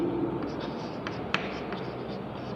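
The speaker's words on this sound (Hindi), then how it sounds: "यहाँ लिखते हैं" Chalk or marker strokes on a classroom board during a physics lesson, a steady scratchy scribbling with a few sharper taps, close and fairly quiet over low room noise.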